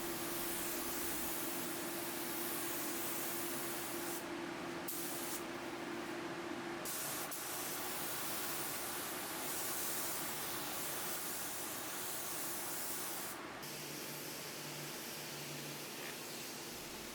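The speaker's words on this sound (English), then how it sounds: "But I also decided to spray the drawers while I was waiting on that spackle to dry." Spray painting dresser drawers for a vintage furniture flip gives a steady, continuous hiss of the spray gun running close by for the whole stretch, with a few short pauses and shifts in tone.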